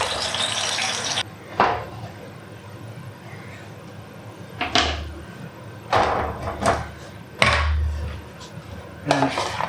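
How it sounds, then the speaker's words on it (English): Cooked potatoes shaken in a colander, a few separate bursts of rattling and knocking, close and fairly loud, with quieter gaps between them. "drain them and give them a good shake in the colander to roughen up the edges"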